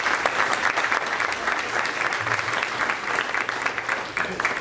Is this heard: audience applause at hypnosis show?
yes